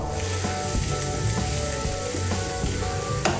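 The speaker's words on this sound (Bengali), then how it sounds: "1 ছোট চামচ আদা কুচি, রসুন কুচি আর আদা কুচিটাকে হালকা একটু ভেজে নেব।" Chopped ginger and garlic fry lightly in a pan for a chilli egg dish, giving a steady close sizzle with faint crackles and one brief clink near the end; no voices.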